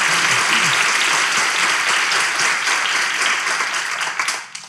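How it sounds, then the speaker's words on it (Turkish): Theatre audience at a live comedy show in Kadıköy, Istanbul, applauding in a dense, steady wash of clapping that fills the room throughout and tapers slightly at the end. "çok erken alkışladınız ya"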